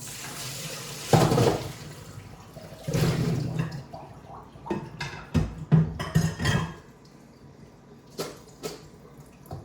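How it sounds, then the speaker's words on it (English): Water from a pot of cubed potatoes is drained into a sink, pouring and splashing in several separate bursts against quieter pauses, with no one talking. "So I'm just gonna drain them now."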